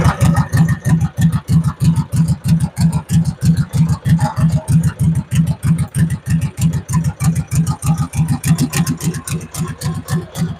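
An old tractor engine, fitted with compression releases, chugs steadily and close by in a fast, even thumping rhythm that runs the whole time, loud and continuous, with no talk over it.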